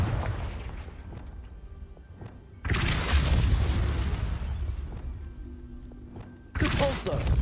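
Confringo fire blast spell in Hogwarts Legacy, heard as two loud booming explosive bursts, the second starting near the end, over game background and a voice.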